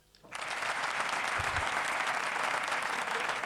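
An audience at a university inaugural lecture breaks into applause, which starts abruptly and holds as dense, even clapping from a crowd for the rest of the moment.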